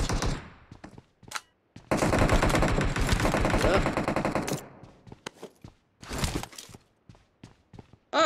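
Rapid bursts of video game gunfire from a zombie shooter, a sustained loud volley in the middle flanked by scattered shorter shots and clicks, with brief stretches of quiet between.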